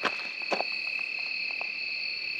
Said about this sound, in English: It's just crickets.